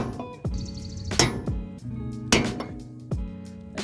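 A hammer strikes to stake the axle nut on a Mazda RX7 front wheel bearing, several sharp metallic blows in uneven rhythm with ringing clinks between them, close and fairly loud.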